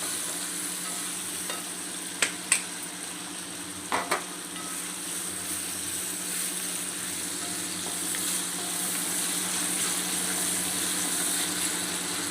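Onions frying and being stirred in a pan for a vegetable sabji, a steady soft sizzle throughout with a few clicks of the spoon against the pan.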